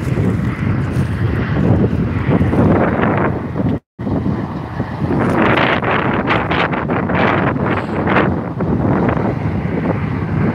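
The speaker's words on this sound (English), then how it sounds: "Really windy out today" Strong outdoor wind buffets the microphone in heavy, continuous low rumbling gusts, with a brief dropout partway through and rising, rushing bursts afterward.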